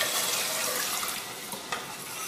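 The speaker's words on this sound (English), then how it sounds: "this is 3 cups of vegetable broth." Three cups of vegetable broth pour into a pot of rice, a steady splashing liquid rush that stays fairly even throughout, close and moderately loud, with no talking.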